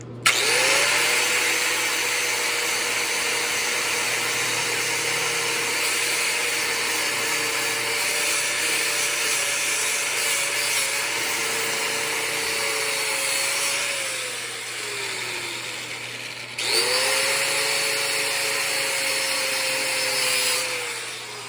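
Wire wheel grinding metal while welding up a crossmember for an S10 truck, a sustained loud whirring rasp with a motor whine that dips and recovers, running steadily for about twenty seconds.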